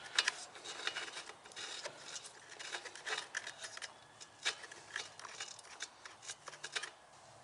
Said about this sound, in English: I'm going to go ahead and install the spark plug that came with the carburetor kit.